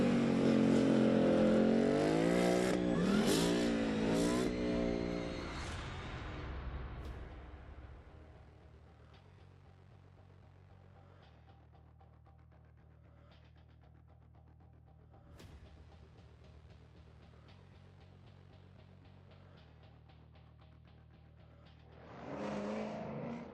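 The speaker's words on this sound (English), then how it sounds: "It was built by the rumble of a V8, and it should rumble to that sound once more." A V8 engine from The Grand Tour video game revs loudly at first, then settles into a low, steady idle rumble before flaring up again near the end.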